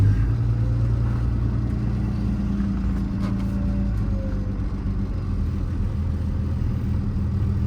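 A 2023 Mack MD6 service truck with a Cummins diesel and 134k miles drives along pavement, its engine holding a steady, deep droning rumble close by with slight shifts in pitch as it moves through the gears.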